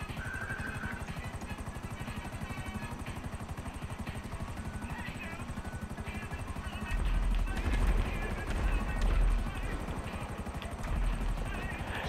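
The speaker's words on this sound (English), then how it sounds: "oh, look at that helicopter over there" Rapid, steady rotor chop of a helicopter in a video game runs throughout, joined partway by heavier low rumbling bursts, with the whole scene sitting under continuous game noise.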